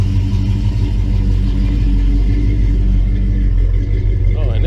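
A 1966 Plymouth Belvedere engine fitted with FiTech fuel injection idles with a steady, deep, loud rumble close by, holding an even pulse throughout.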